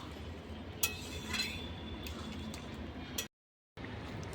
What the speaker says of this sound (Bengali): ঢাকাটা উঠিয়ে দিয়ে নেড়ে দিয়ে নামিয়ে নেবো